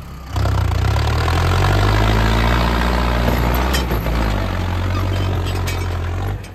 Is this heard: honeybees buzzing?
no